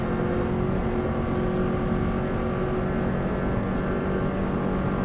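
A 2018 Subaru Impreza engine drones steadily at full power on a road course, a constant loud mechanical roar heard from on board without breaks.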